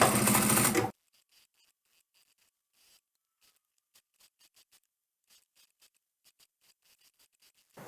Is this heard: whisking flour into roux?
no